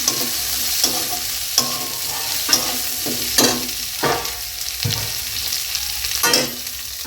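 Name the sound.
garlic and onion frying and being stirred in a pan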